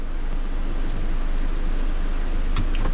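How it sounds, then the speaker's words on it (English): Rain falls steadily outdoors at night beside a 2014 Ford Transit Connect under repair, a dense continuous patter with a few sharper drips near the end, loud and close, with no speech. "it is raining and it's very horrible right now"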